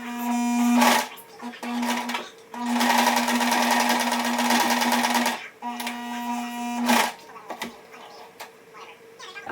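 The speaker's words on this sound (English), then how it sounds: "I'm just going to quickly sew" A sewing machine stitching double-layer sparkle mouse ears runs in several loud, close bursts of rapid whirring, with short pauses between runs and no talking.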